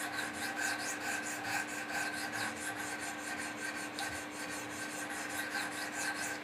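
Wicked Edge sharpener stones honing the blade of a Benchmade Mini-Griptilian knife, a steady, even scraping of quick back-and-forth strokes, close and continuous.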